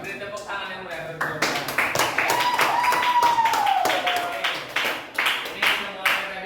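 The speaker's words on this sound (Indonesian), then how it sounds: "Beri tepuk tangan yang meriah." A classroom group claps for presenting students, a brisk burst of applause lasting several seconds, with voices talking over the clapping.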